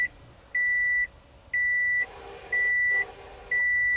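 Warning alarm from a Zero Sport gauge pod with 60mm gauges in a car, sounding four steady, loud electronic beeps of about half a second each, evenly spaced at one-second intervals.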